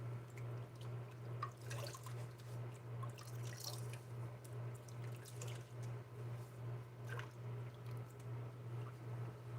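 Water dripping and trickling from a tap into a sink while getting water ready for a wet shave, steady and fairly quiet throughout with a constant low hum underneath.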